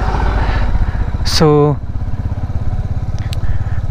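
A motorcycle rides the mountain road from Gangtok toward Nathula in East Sikkim, its engine a steady low throb close by, with someone talking over it and a brief rising whistle-like tone partway through.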